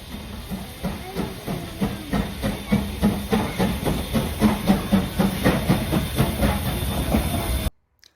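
A historic steam train on the Zig Zag Railway in Australia clatters along with steady, rhythmic clickety-clack beats and a constant background hiss, loud and close, cutting off abruptly near the end.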